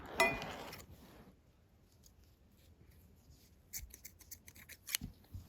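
Scissors snip through the yarn ends of a small beginner crochet flower, a rustle up front, then a cluster of quick, crisp snips near the end, close and fairly quiet.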